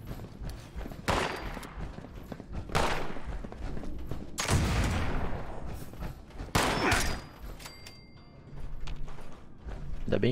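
Several sharp, loud 10mm pistol gunshots in the video game Fallout 76 at irregular intervals, each with a brief decaying tail, separated by quieter stretches of background noise.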